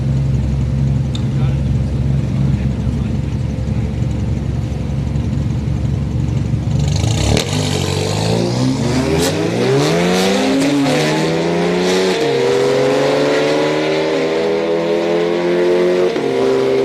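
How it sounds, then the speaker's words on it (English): A drag racing car spins its tires at a street night event in Orlando, an idling engine suddenly erupting into a loud high-revving burnout and repeated rising shifts, close and sustained, with people talking over it. "He's spinning his tires."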